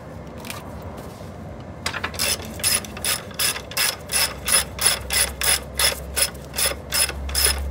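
A ratchet with a 13/16 socket clicks in a steady series of sharp, close strokes while loosening the rear axle nut of a Kaabo Wolf King electric scooter, following a softer click or two before it.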